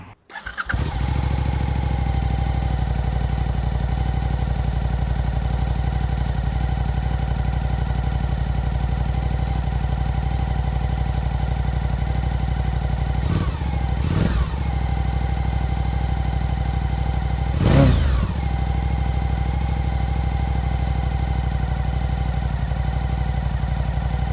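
A 2021 Suzuki V-Strom 1050 XT motorcycle engine idles steadily and close by, a constant low throbbing drone with a couple of brief blips of throttle near the middle and end.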